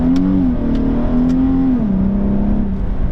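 A Nissan 370Z engine idles and revs in a steady low drone, the pitch dipping and rising slightly, close and loud with no speech.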